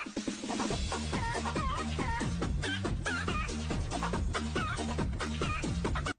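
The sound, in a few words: chickens clucking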